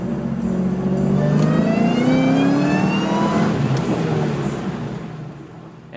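A 2004 SVT Cobra engine accelerates hard, its rising whine and exhaust roar swelling loud and close for several seconds before easing off, with no voices over it.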